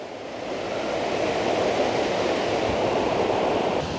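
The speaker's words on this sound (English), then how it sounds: "you can hear the roar of the river" A river roars steadily close by near a waterfall in waterfall country, a dense, constant rushing wash of water that swells slightly at the start and then holds even with no voices.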